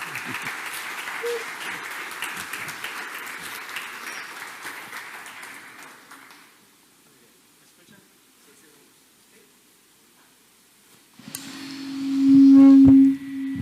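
An audience at a book presentation applauds for about six seconds, then the clapping fades to near silence before a loud tonal burst, likely microphone feedback or a horn, and a voice begins speaking.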